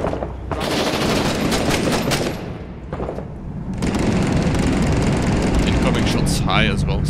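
Dense close gunfire and bursts of automatic fire from the Iraq war shooter Six Days in Fallujah, loud and continuous, mixed with booming impacts while players talk over it.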